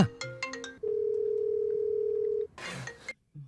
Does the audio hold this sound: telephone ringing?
yes